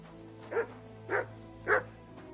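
A dog in Kingdom Come: Deliverance II barks three times at an even pace, each bark a short, moderately close woof.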